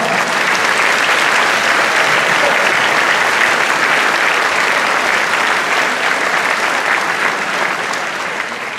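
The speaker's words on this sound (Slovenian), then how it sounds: "če to ni vredno aplavza" A concert audience applauds long and steadily, a dense, even wash of clapping from a large crowd that holds at full strength for several seconds before easing slightly.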